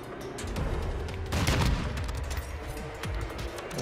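Gunfire in Call of Duty MW2 during a sniper match: loud, close shots and booms with a dense burst in the middle, and no talk.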